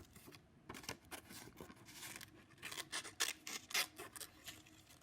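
Scissors snipping paper for a bird craft, a quick run of close, soft, crisp cuts that grows busier toward the end over a quiet room, with no talking.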